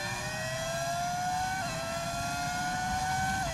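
A V10 Formula 1 car in the F1 25 racing game, driven at Silverstone, screams at high revs with a continuous, loud engine whine. The pitch climbs steadily and dips sharply at two gear shifts, with no voices.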